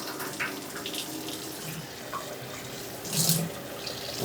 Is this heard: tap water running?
yes